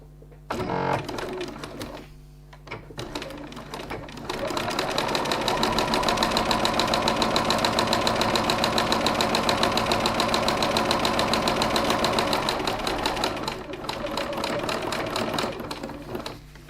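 A sewing machine top stitches in a fast, even mechanical rattle that starts after a few short bursts and runs steadily for about nine seconds, then slows and stops.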